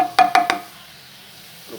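Carrot halwa being stirred in a pan: three quick scraping strokes of a spoon in close succession, then a soft faint sizzle, with one more brief scrape at the end.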